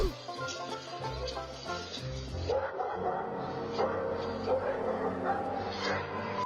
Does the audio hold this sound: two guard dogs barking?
yes